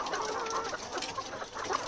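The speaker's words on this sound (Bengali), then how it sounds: "এই হচ্ছে বাঁশের খাঁচা দিয়ে আমি মুরগি পালন করছি" Chickens kept in a bamboo cage cluck softly in short repeated calls, close and fairly quiet over a steady background hiss.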